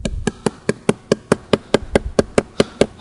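An anchor bolt being lightly tapped with a hammer into a drilled hole for a column: about fourteen crisp metallic taps at a steady, quick pace, close and alone.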